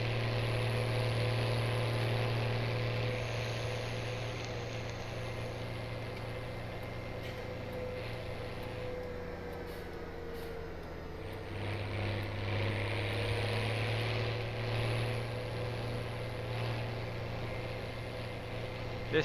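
A farm tractor in Farming Simulator 17 idles and drones with a steady low engine hum and exhaust note, heard from the cab at an even level that shifts pitch slightly partway through.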